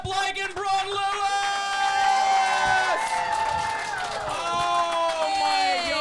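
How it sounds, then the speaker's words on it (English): A live podcast audience in Melbourne cheers and applauds as guests are welcomed to the stage, a dense crowd roar under loud, bright walk-on music. "please put your hands together and welcome to the stage, Brett Blake and Bron Lewis"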